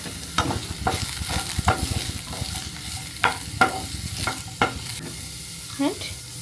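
Onion and beetroot fry in a pan, a steady sizzle broken by sharp scraping stirs roughly every half second to a second, close and fairly loud, with no voices.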